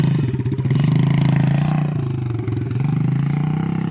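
Small 50cc dirt bike engine running steadily nearby, a close, buzzing mid-pitched drone with slight rises in revs and no talk over it.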